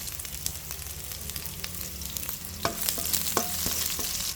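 Ginger, garlic and onion frying in a pan for pork dinuguan, a steady sizzle under repeated spatula scrapes and clicks that grow more frequent toward the end.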